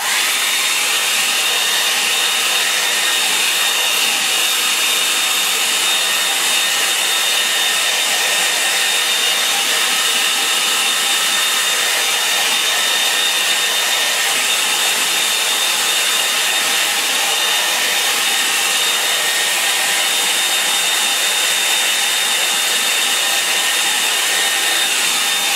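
A hair dryer blows steadily and loudly over a fresh watercolour painting of a snowy April scene, a constant rushing whir with a faint high whine, no talking, unbroken for the whole stretch.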